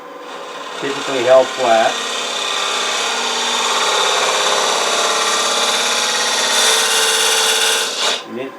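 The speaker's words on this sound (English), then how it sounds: "as I'll illustrate in this lid, with certainly a round carbide scraper" A round carbide scraper hollows the inside of a wooden box lid: a brief spoken remark, then a continuous, even rasping scrape that runs for several seconds before easing off.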